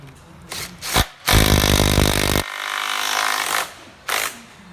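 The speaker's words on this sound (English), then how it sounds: "And then we're just using our ratchet gun." A pneumatic ratchet gun bursts into a loud, sustained whir for about a second while removing a part from a rear hub drive, followed by a quieter mechanical hum and a final short, sharp burst.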